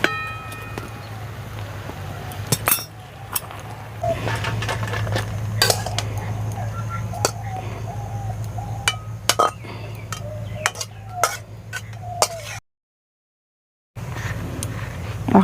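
A pan of boiled onion stalks is lifted off the stove, with scattered sharp metallic clinks and clatters of cookware over a steady low hum, followed by a brief gap of silence.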